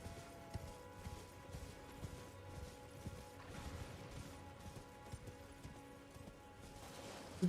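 Horse hooves in the Elden Ring video game: a faint, quick run of clip-clop footfalls from a galloping mount, rhythmic and continuous, set against a soft ambient background with no talk.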